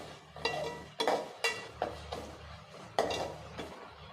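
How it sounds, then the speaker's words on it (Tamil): Tomato and ginger-garlic paste are stirred in a pan for egg curry, a spoon scraping and clinking against the metal in about seven sharp, uneven strokes, with a faint sizzle underneath and no speech. "இஞ்சி பூண்டோட பச்சை வாசனை போகிற அளவுக்கு நல்லா வதக்கி விட்டுருங்க."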